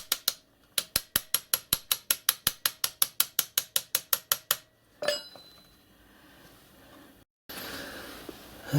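A ratchet tightens the locking nut on an e-bike crank bearing with a fast, even run of about twenty sharp close clicks, followed by metallic handling noises and rustle.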